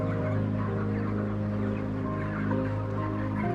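A crowded chorus of chickens clucking inside an industrial factory farm shed, a dense, continuous murmur of many birds at once, fairly loud and steady, with no talking.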